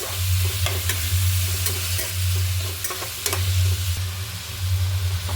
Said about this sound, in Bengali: এখানে সব পেঁয়াজগুলো দিয়ে দিয়েছি সেটাকে নাড়াচাড়া করতে থাকবো